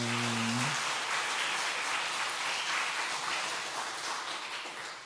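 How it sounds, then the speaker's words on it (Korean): Church congregation at a Korean Sunday afternoon worship service clapping for a returning brother and sister; a short voice gives way to sustained, even applause across the room that gradually softens. "저기 박수 한번 해주시길 바랍니다"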